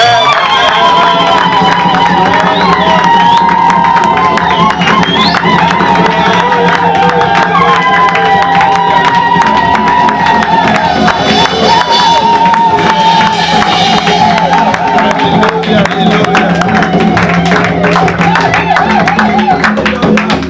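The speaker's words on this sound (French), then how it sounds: "Maintenant, je répète encore, acclame pour ton Dieu" A church congregation cheering and acclaiming God, a loud continuous swell of shouts, whoops and voices that fills the room without pause from start to end.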